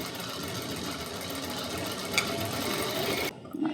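A sewing machine runs steadily while stitching a deep U neckline on a blouse, making a continuous close mechanical whir that cuts off near the end, followed by a brief handling noise.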